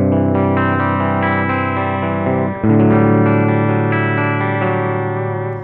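Guitar strung with old, dead strings, played as sustained chords through an effects unit with distortion and chorus, loud and ringing, with a fresh strum about halfway through that decays slowly.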